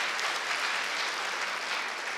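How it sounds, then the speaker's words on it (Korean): A church congregation at Sunday worship applauds to welcome a 16-month-old child, a steady wash of many hands clapping together, even and full for the whole stretch with no voices over it. "우리 박수로 환영하겠습니다."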